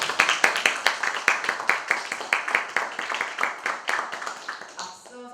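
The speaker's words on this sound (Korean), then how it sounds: "윤명철 교수님께 너무너무 감사하다는 박수 전하고 싶습니다." An audience in a lecture hall claps for the lecturer, a dense run of many hands that holds steady for several seconds and then thins out at the end.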